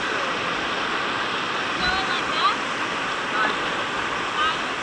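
A paddled creek rushes with dense, steady turbulent water noise that holds at a loud, even level throughout.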